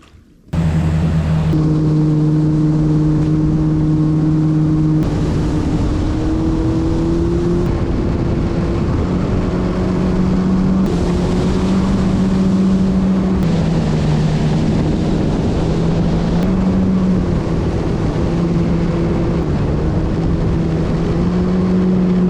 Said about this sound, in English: I want to ride on the jet ski!